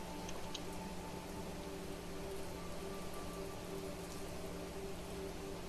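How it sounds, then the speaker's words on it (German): Steady rain falls in the video game Planet Crafter as an even, dense hiss with scattered drops, fairly quiet, with no one talking. "Regen. Wir haben jetzt Regen, gut."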